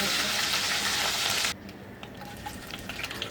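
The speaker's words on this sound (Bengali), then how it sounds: "চিকেনগুলো আমি ভালোভাবে একটু উল্টিয়ে পাল্টিয়ে ভেজে নেব" Chicken pieces frying in hot oil, a loud, dense sizzle that cuts off sharply partway through, leaving a quieter kitchen background with faint stirring.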